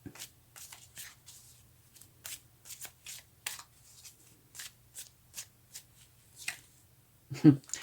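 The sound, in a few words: shuffling tarot cards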